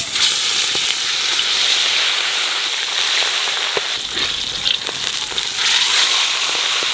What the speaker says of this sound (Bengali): নুন হলুদ মাখাইয়ে মাছটারে ভালো করে ভেজে নেব।